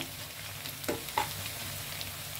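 Onions fry softly in a pan with a faint, even sizzle, as two quick scraping stirs of a spoon stand out briefly over the hiss.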